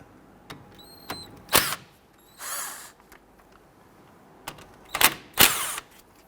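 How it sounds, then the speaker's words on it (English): A power tool whirs in short bursts, loosening the 14mm brake caliper bolts on a 2006-2012 Toyota RAV4, with clicks and metallic ratchet sounds between the bursts. "loosen and remove the two 14mm bolts holding the caliper to the caliper bracket"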